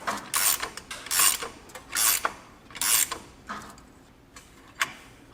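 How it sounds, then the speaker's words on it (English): Brake flare tool flaring a steel brake line while restoring an abandoned Pontiac, heard as four loud, close metallic ratcheting creaks in a slow, regular rhythm, followed by a few fainter clicks, with no talking. "Grab our brake flare tool. Set him to the right depth. Operation 1 goes first."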